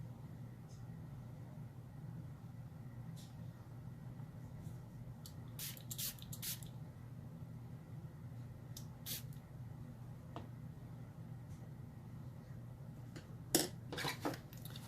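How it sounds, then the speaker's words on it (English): A few quick, faint spritzes of water from a small mini mister onto a watercolor painting, over a quiet, steady background hum, with a couple of louder bursts near the end. "I'm going to give it a light spray to help those colors run down"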